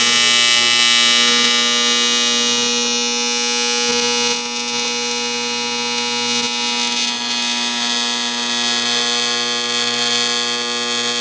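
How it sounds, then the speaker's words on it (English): A welder runs on a UTV cargo box, producing a steady, loud electric buzz with strong humming tones that holds nearly unbroken for the whole stretch. "I'm going to go ahead and weld that out."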